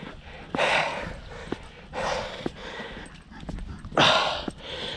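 A dog out on a walk gives several short, breathy bursts of panting and yelps, close to the microphone, separated by brief pauses with light rustling.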